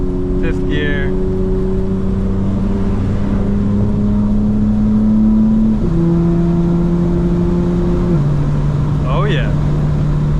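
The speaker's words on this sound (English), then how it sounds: "That's M1 now, all-wheel drive, 7th gear, 6th gear, 5th gear." A 2025 BMW M4 Competition in all-wheel drive accelerates, its engine holding a loud, steady drone from inside the car that drops in pitch at each of several downshifts, while someone talks over it.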